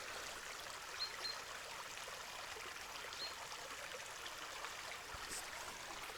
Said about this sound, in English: Here's the river for you.